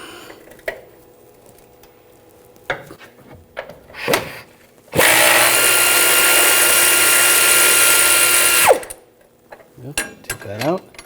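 A 21mm socket on a ratchet loosens a bolt on the upper control arm of a 2014-2018 GMC Sierra, with scattered clicks and clanks, then a loud sustained harsh burst of several seconds, likely a power tool, followed by more clicking.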